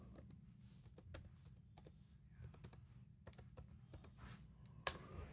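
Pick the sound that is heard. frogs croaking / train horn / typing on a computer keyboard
typing on a computer keyboard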